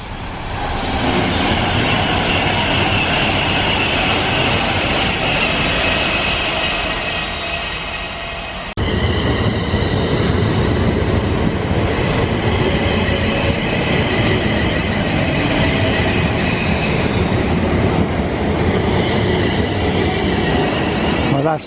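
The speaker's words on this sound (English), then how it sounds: "That's the slow train to London Euston" A slow passenger train to London Euston rumbles through a North London station, loud and close, its steady roar and rattling wheels continuing throughout with a brief shift partway through.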